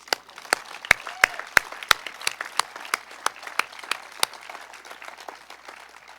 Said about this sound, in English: And we need an applause on that.